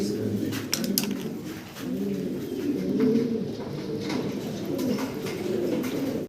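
Fancy pigeons coo close by in a steady run of soft, throaty, rolling calls that carry through the whole stretch while someone talks over them.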